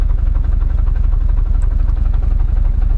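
A car engine idles low and lumpy with heavy vibration, a steady rough mid-range rumble with a throbbing pulse, loud and close, running alone without talk.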